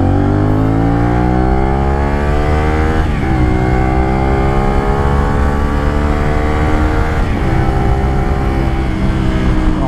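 A CFMOTO 450SR motorcycle engine screams loud and close at high revs, climbing steadily through the gears with two brief dips at the shifts.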